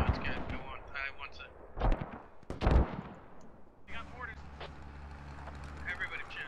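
Rocket and gunfire explosions in the video game Squad: a couple of sharp booming blasts and rumbling impacts, fairly loud, mixed with voices talking over game audio.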